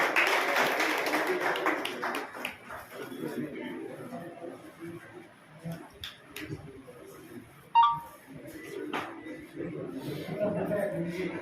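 Brief crowd applause welcomes the village head onto the stage at a classroom inauguration ceremony at a Mahatma Gandhi school, a burst of clapping that fades under an announcer's voice and murmuring chatter.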